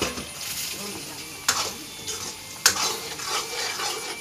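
Fish frying in a pan of spicy gravy while being stirred, a steady close sizzle with two sharp utensil scrapes against the pan and faint clinks throughout.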